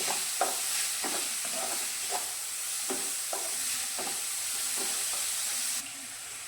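Gram flour (besan) roasts in a pan over a low gas flame, with a spoon scraping through it in a steady series of soft, regular strokes over a faint, constant sizzle.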